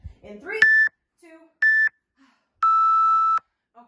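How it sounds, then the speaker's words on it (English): Workout timer during an abs and toning session sounds three electronic beeps, the last one longest, alone in a quiet room after a brief voice at the start. "Oh, the timer's going to probably keep going off."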